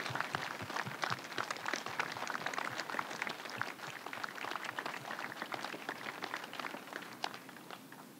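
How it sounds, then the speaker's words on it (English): Audience at a school cadet force event clapping for the adult instructors, a faint, continuous patter of many hands at a distance. "give a big round of applause to all the adult instructors"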